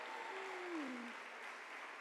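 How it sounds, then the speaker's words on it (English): A school awards ceremony audience gives steady applause, a soft even patter of many hands heard from a distance, with a brief voice-like tone drifting over it near the start. "let's applaud for them,"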